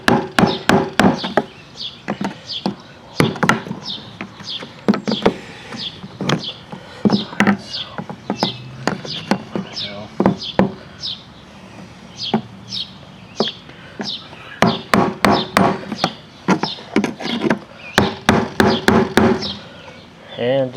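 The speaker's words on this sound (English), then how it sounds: "Grab my little hammer and" Small hammer tapping away at a fuel pump part during a Chevrolet TrailBlazer fuel pump install, a long run of sharp, close taps in uneven bursts with pauses and faint talk between.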